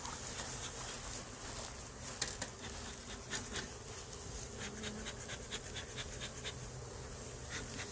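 Honey bees buzz around a beehive in a steady, soft drone, with faint outdoor background noise and scattered light ticks.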